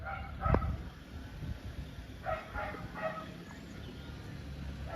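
Dogs bark a few times at a workshop unit, a loud bark near the start and softer ones later, over steady background noise.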